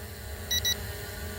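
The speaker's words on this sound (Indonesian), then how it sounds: "Ini sudah bunyi bip-bip." A drone sounds its low-battery warning as two quick high-pitched electronic beeps in succession, fairly clear over a steady low background hum.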